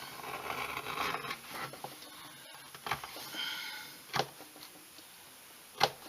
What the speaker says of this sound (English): The edge beveler and some sandpaper is faster.